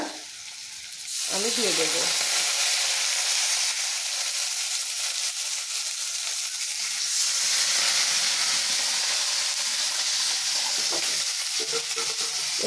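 Vinegar hits a hot pan of fried chili chicken pakoras and erupts into a loud, steady sizzle with hissing steam, lasting throughout and briefly stirred, with a short spoken remark early on.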